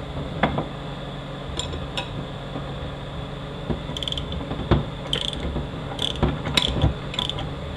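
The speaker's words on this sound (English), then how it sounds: "I'm going to use a 15/16 wrench and a ratchet with the socket." A ratchet with a 15/16 socket tightening bolts during a U250E transmission rebuild, giving sharp clicking pawl bursts in short irregular runs with metallic clinks, close and fairly quiet, no talk.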